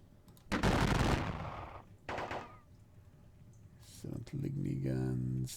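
Video game gunfire in a Battle of Dennewitz wargame, with a loud opening volley, a shorter burst, then more shots, while someone talks over the clip.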